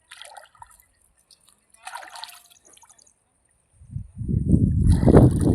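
Water from a motor pump flows into a field channel, with sparse drips and trickles at first, then a louder, close, gushing rush of water that swells toward the end.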